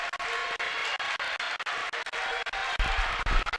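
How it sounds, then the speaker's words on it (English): A small crowd cheers and claps in the stands at a boys' high school basketball game, Southwestern (Hanover) versus Providence. The noise comes in rough bursts of moderate loudness, with a brief thump of floor noise near the end. "Crowd's getting into it. Not a big crowd, but you can hear them."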